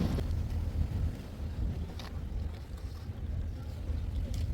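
Sea noise heard from aboard a boat off Port Grand, Karachi: a steady low rumble of water and wind buffeting, continuous and fairly loud with no clear voices.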